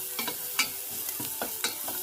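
Onion sautéing in a pan for a chicken sopas, a steady close sizzle broken by a few sharp scrapes and taps of a utensil being stirred.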